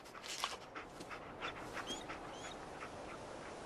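A dog companion in Fallout 4 sniffs and pants softly in short, faint bursts over quiet game ambience, with no speech.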